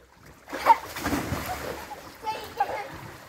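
Water splashes in a backyard swimming pool, a few sharp splashes close by followed by lighter sloshing, with children's voices talking and calling out over it.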